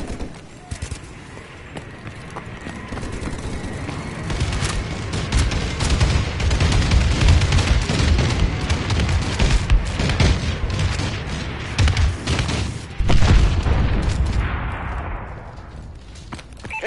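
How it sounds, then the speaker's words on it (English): Bombing run explosions in a video game, a dense stretch of booms and crackling blasts rolling over each other for most of the span, loud and continuous with a heavy low rumble. "Enemy bombing run overhead."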